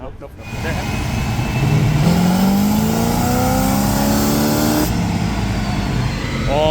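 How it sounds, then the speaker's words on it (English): Chevrolet C10 with a Quadrajet carburetor and a 170-horsepower engine revs up loud and close, its pitch climbing steadily over several seconds before easing off, with people talking over it. "Oh, listen to that quadrijet sing."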